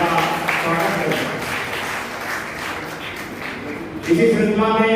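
Applause welcoming guests at a Gandhi Jayanti celebration at Gandhi Bhawan, Barabanki: sustained crowd clapping that runs through the whole stretch, with a voice over the loudspeaker speaking on top of it.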